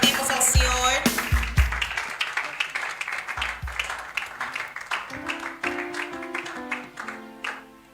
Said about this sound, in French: Ele avança, aplaudimos ao Senhor.